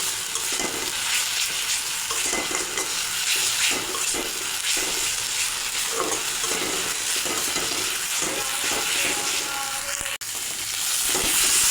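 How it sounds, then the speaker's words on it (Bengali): Ground coriander, chili and turmeric mixed into a paste and frying in a pan for a tengra fish curry, a loud continuous sizzle close up with scraping stirring strokes throughout. "এখানে মশলাটা ভালো করে কষিয়ে নেব"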